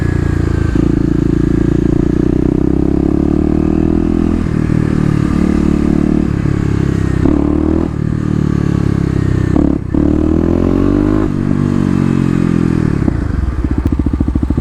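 A Kawasaki KLX250 with a noisy aftermarket exhaust revs repeatedly in a mall parking lot, its loud, close engine note rising and dropping in harmonic sweeps with a few brief dips, ending in a rapid throttle flutter.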